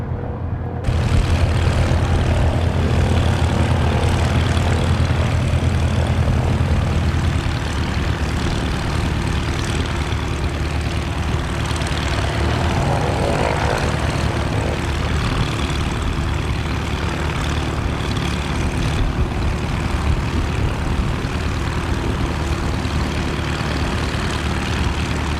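A small propeller plane's engine drones loud and steady close by, its low prop hum holding for the full stretch with no voices.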